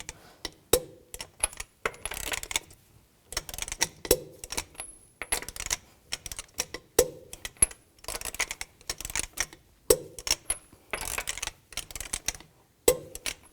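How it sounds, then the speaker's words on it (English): Clicking of a torque wrench tightening lug nuts on a 2007-2012 Nissan Altima wheel, sharp ratchet clicks arriving in repeated bursts about every three seconds, close and alone. "Now I'm going to torque the lug nuts to 83 foot-pounds in a cross pattern"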